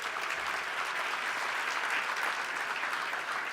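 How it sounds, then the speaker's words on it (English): An audience at the LULAC National Legislative Awards Gala applauds, a dense, even wash of clapping from many hands sustained throughout, heard from a moderate distance with no voices over it. "Please give yourselves a rousing round of applause."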